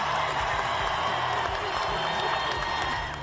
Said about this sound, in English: Grace and Justin getting a huge round of applause from the crowd